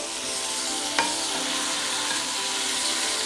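Spinach and turnip are stirred together in a hot pan, with a continuous close sizzle and one brief clink of a utensil early on, and no voices.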